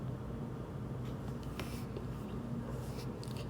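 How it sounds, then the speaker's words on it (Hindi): Marker or chalk writing on a classroom board during a maths lesson, a faint scratchy stroking over a steady low background hum, with no talk. "यहाँ लिख देता हूँ टाइम टेकन"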